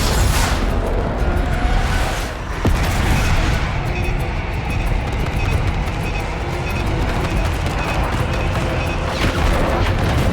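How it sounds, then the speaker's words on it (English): Bombs from an airstrike in Call of Duty: Black Ops 6 erupt in loud, continuous booming blasts with rumbling debris, dense and close for about ten seconds. "Bombs away."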